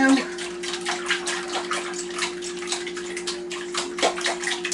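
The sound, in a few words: whisking eggs and seasonings in a bowl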